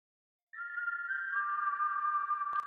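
A steady, sustained whistled tone starts abruptly after a short silence and holds, ending with a brief click.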